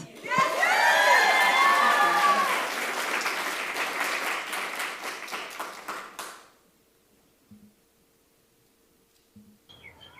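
An audience claps and cheers loudly to welcome a speaker to a talk about coral and the marine environment. The applause fades out after about six seconds, then the room goes quiet with a few faint sounds.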